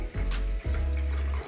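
Water from a glass pours into a pan for gulab jamun syrup in a home kitchen, two short splashing gushes close by, the second longer than the first.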